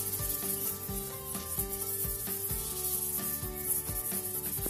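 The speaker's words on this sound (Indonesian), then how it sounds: "Ini sulit banget dibersihin, tapi di sini aku akan mengamplasnya." Faint, rhythmic scraping of abrasive sanding against crusted yellow stains inside a squat toilet bowl, repeating in short strokes under a steady background hiss.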